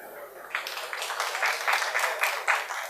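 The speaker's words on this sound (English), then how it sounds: "All right, round of applause for each one of you." Audience at a motivational talk claps in a short, moderately loud burst of applause lasting a few seconds, with no talk over it.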